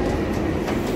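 A Delhi Metro train runs at Jama Masjid station with a steady, loud, close rumble and faint rail clatter that stays even throughout, with no voices.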